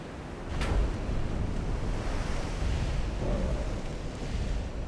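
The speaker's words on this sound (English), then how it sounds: "You know you're in trouble when there's shell splashes that, you know, are way taller than your ship." Naval shells splash into the sea in the Ultimate Admiral: Dreadnoughts naval warfare game, making a steady roaring wash of churning water and wind. A brief hissing burst comes early, then a sustained surf-like rush continues at an even level.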